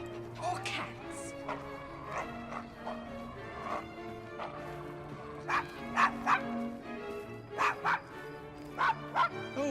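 A dog barks repeatedly in Assassin's Creed Syndicate on PS4, sharp yips in irregular bursts over a busy game soundscape with music and character voices talking.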